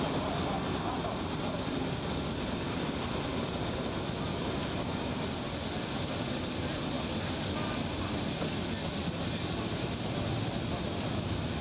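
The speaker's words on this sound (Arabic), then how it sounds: "هذه الصور تأتيكم على المباشر وصول الطائرة التي تقل جزائريين كانوا عالقين بالدول المجاورة لأوكرانيا" An airplane arrives carrying Algerians evacuated from countries bordering Ukraine. It produces a steady, loud, broadband engine roar that fills the whole stretch without letting up.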